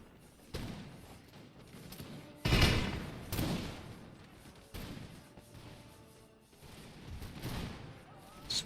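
Musket volleys from massed infantry in Empire Total War with a Victorian Era mod, British East India Company forces: a heavy crackling fusillade and booming thuds in uneven bursts, with a voice talking intermittently over the battle.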